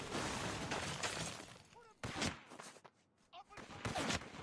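Police gunfire in the inFamous 2 video game, sharp bursts and cracks with some shattering, in uneven clusters and mixed with game effects and a voice talking over it.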